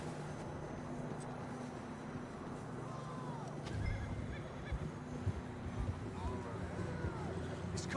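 A horse neighs and whinnies in the video game Red Dead Redemption 2, under a dense ambient bed of hooves and outdoor background noise, with brief calls and movement sounds scattered across the clip.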